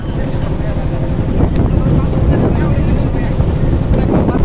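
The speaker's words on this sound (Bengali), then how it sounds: "একটু ট্রলার চালাবো আজকে" A trawler boat running on a river near a ghat with a bridge under construction, a steady low engine rumble and heavy wind buffeting the microphone throughout, fairly loud and continuous.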